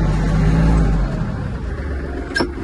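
A Kubota GL-260 Japanese mini tractor engine runs close and loud with a steady low drone, rising slightly as the throttle opens, then settling into an even idle-like hum.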